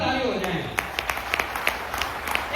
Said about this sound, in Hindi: एक बार मैं चाहूंगा इनके लिए स्पेशल ताली हो जाए,